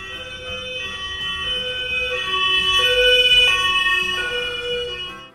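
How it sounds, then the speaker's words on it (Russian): An ambulance siren wails in loud, close, wavering tones that step up and down in pitch, swelling midway and fading slightly at the end. "Скорая помощь."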